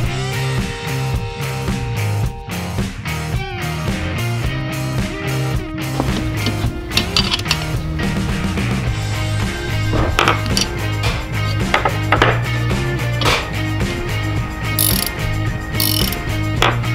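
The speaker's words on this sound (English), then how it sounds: "Now we can install the head studs by backing two nuts against another." A ratchet wrench driving head studs into a Predator 212 go-kart engine block using two nuts locked together, loud close rapid clicking in continuous bursts with no talking.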